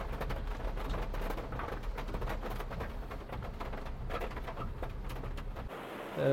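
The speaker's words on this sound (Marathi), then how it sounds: "खूप जोरात पाऊस आहे आयोरीला पण." Heavy downpour on a Mumbai street during the monsoon, with waterlogged roads, a steady broadband hiss of rain sustained throughout and no talking.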